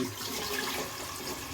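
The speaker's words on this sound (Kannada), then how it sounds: "ನೀರು ಹಾಕೋಣ" Steady rushing of water pouring into a cooking pot on a stove, continuous and fairly close, with no voices.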